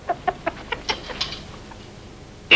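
A rooster gives a quick series of sharp clucks, about eight evenly spaced calls that fade off, followed by a sudden loud burst at the very end.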